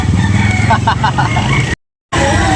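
A Black Makarin gamecock crows once, a broken harmonic cry rising over steady background noise and talk, then the sound cuts out briefly before the chatter resumes.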